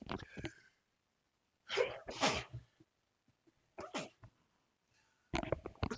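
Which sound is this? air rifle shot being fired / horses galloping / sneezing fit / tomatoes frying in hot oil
sneezing fit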